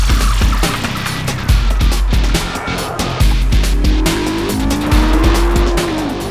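A McLaren MP4-12C coupe accelerating hard, a loud close engine roar climbing through gears with repeated shift dips and some tire noise, without speech.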